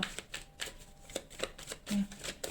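Cards for a reading being shuffled and drawn, producing a run of soft, quick riffling flicks and taps in irregular bursts, close and fairly quiet.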